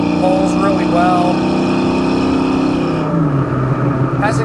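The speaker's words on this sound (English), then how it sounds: "Has a great exhaust note to it." A 1991 Ford Mustang LX 5.0 with an automatic, shorty headers and a full aftermarket dual exhaust, heard from inside while driving: a steady loud V8 drone that drops in pitch near the end, with someone talking over it.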